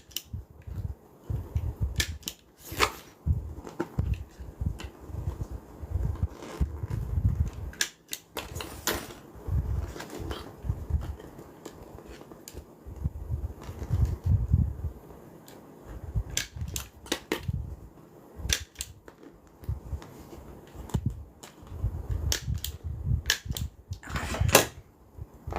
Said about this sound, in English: We're just adding our staples right on the outside